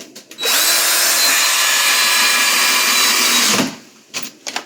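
Power drill driving a screw into solid wood during a counter and backsplash teardown, one steady high-pitched whir lasting about three seconds, close and loud, with a few clicks and knocks before and after.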